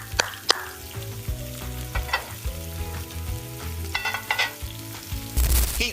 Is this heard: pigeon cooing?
no